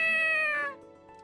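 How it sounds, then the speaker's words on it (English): A stray cat, white-spotted, emerging from bushes in a visual novel game gives one clear, drawn-out meow that falls in pitch and fades away. "cat spotted with white emerges from a nearby clump of bushes"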